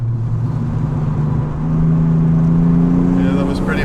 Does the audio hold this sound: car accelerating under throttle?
yes